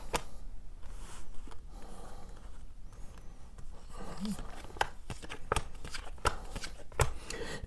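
Tarot cards being shuffled by hand, a run of soft papery riffles and crisp snaps at close range, with quieter rustling between them and no talk.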